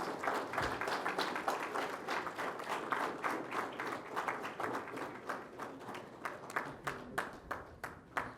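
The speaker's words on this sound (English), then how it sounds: "A big round of applause, please." Sustained audience applause at an EV industry summit session, many hands clapping steadily for several seconds, then thinning toward the end into more distinct, separate claps, fairly quiet and with no talk over it.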